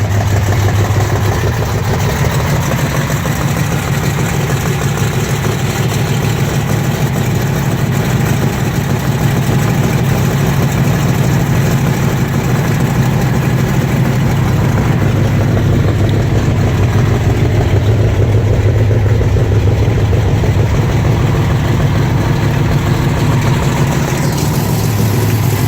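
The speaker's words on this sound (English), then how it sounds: "Exhaust clicking and ticking on this side." A 1970 Dodge Challenger convertible idles with its exhaust ticking, a loud, close, steady low rumble that runs unbroken for about 26 seconds with no one speaking.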